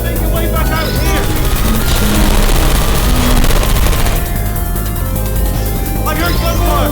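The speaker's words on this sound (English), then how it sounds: "I heard gunfire!" Rapid bursts of gunfire crackle through a dense, busy soundtrack in the video game Portal, with voices talking over the shooting.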